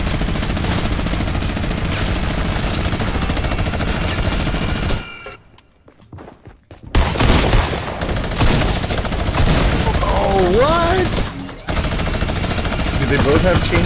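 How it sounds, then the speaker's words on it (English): Rapid automatic gunfire from chain guns in a Fortnite match, sustained bursts filling most of the stretch with a brief lull midway, while players talk over it. "They both have chain guns or something?"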